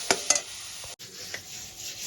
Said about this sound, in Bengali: মশলাগুলো দিয়ে আমি ভালো করে মিক্স করে নেব।